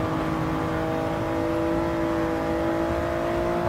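A race car engine holds full throttle in Gran Turismo 7 on the Sardegna circuit, a steady loud high-revving drone with a continuous tonal whine, alone with no talk.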